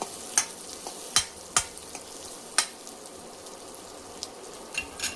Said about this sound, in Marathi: आता मी कांदा टाकून घेते सगळा आणि पूर्ण ह्याला हलवून घेते असं एकजीव करून.